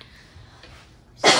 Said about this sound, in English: Sorry about that coughing, guys.